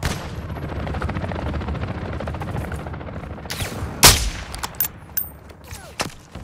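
Sustained rapid automatic gunfire in Call of Duty: Modern Warfare II, a dense close rattle that ends in a sharp loud blast, followed by scattered single shots and clanks.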